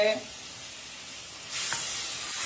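Water is stirred into a sizzling pan of egg curry, and a steady frying hiss suddenly swells into a louder, broad sizzle partway through, heard up close.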